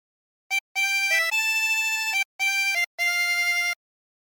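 A 24-hole tremolo harmonica plays a short phrase of O Christmas Tree, with a few sustained, wavering reedy notes separated by brief gaps. It sounds close and clean with no voice.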